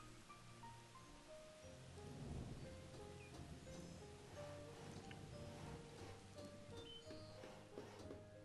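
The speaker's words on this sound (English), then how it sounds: "it's starting to rain." Steady rain hisses in the village-building game Banished, a soft, continuous wash of drops with small tonal game sounds and faint music drifting over it, moderately quiet throughout.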